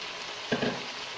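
Carrots and bell pepper stir-fried in a pan for chicken fried rice give a steady soft sizzle, with a brief louder burst of frying and stirring midway; no voices.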